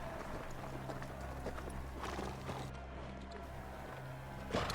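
Horse hooves clip-clop at a steady pace beneath a constant low hum and background rumble, fairly faint and continuous throughout.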